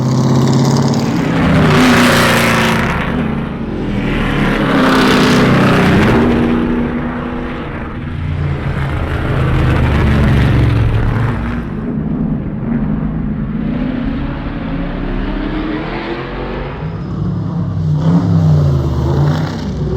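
Old stock cars driven hard at an American speed festival, loud engines revving and roaring past in repeated swells of acceleration, close and continuous with no talk.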